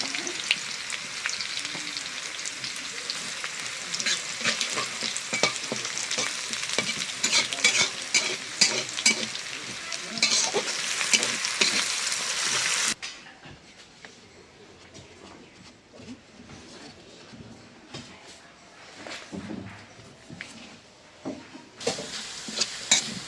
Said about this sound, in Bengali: এখন দিয়ে দেবো কাঁচা জিরা